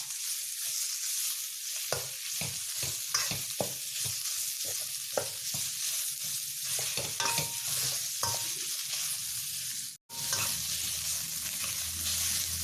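Minced pork stir-fried with garlic, coriander root and pepper in a hot pan, continuous loud sizzle punctuated by regular spatula scrapes, briefly dropping out near the end before resuming.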